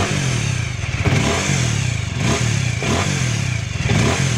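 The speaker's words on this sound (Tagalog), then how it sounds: "Ganyan yung naging tunog nung motor ko" A Winner X motorcycle engine revs repeatedly, rising and falling in loud close surges, with an odd rattling clatter running through the engine sound.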